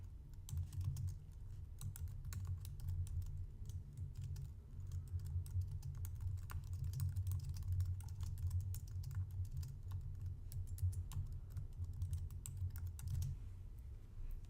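A computer keyboard is typed on steadily for several seconds, a dense stream of light clicks over a low background hum, quiet and close, with no voices.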